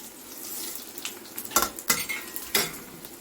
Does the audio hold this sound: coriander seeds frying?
yes